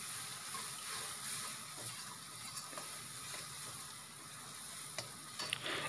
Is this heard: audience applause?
no